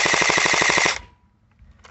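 An airsoft Draco AK-style gun fires one rapid full-auto burst of about a dozen sharp, evenly spaced shots lasting a second, then stops abruptly, followed by a faint click.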